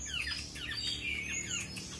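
A black-naped oriole (kepodang) gives a string of fluting, squawky calls and chirps, fairly faint and close over a low background hum.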